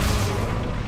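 A fiery Incendio spell blasts out in Hogwarts Legacy, a loud, dense burst with a deep rumbling roar that sustains for under a second without fading much.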